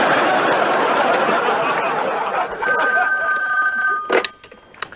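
A telephone bell rings in a sitcom home setting, with a steady ringing tone through much of the clip, then a short sharp burst near the end, with faint laughter behind it.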